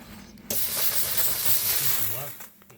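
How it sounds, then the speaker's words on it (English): A Vapor Rino 200 PSI commercial steam cleaner hisses as it steams a rug, a half-second lull giving way to a sustained, close, breathy jet of steam that tapers off near the end. "take the larger floor brush and encapsulate the whole area and just steam the whole thing"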